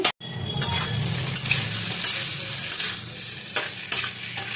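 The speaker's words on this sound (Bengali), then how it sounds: "গ্যাস কমিয়ে আমার মশলা ফুলকপি আলু ভালো মতন কষিয়ে নিয়েছি" Spice paste frying with cauliflower and potatoes in a pan on low gas, a steady close sizzle with stirring scrapes throughout, no voices.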